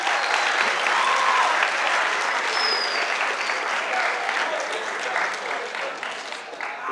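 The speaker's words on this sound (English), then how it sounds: "how about another round of applause for Mr. Ledesma?" A school freshman orientation audience gives a round of applause for a speaker, steady dense clapping from a large crowd that carries on for several seconds and tapers slightly near the end.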